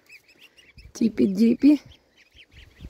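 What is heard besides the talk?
goslings peeping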